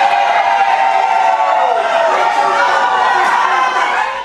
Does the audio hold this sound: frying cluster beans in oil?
no